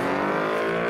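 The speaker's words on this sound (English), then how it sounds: "Next up we have the all-wheel drive A45S versus the 5-litre Mustang, which of course is rear-wheel drive" An all-wheel-drive Mercedes A45S and a rear-wheel-drive 5-litre Ford Mustang launching in a quarter-mile drag race, loud high engine revs rising in a steady sustained roar.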